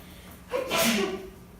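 A single close sneeze bursts out with a sharp intake and a loud breathy blast lasting about half a second, then fades into faint room noise during a physiology lecture.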